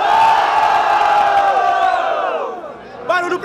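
A crowd at a freestyle rap battle final, Batalha da Aldeia in Brazil, roars with sustained cheering and shouting that fades out, followed by a brief burst of renewed yells near the end.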